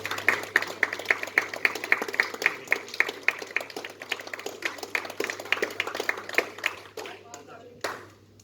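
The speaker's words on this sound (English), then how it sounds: "Big round of applause." Small audience at a snooker academy presentation claps in a modest round, individual hand claps distinct and fairly close, with a high ringing tone and voices mixed in before it fades out.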